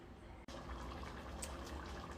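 Haitian Creole chicken sauce simmers in a pot on a lowered burner, a steady soft bubbling and liquid burble that runs on evenly after a brief click near the start.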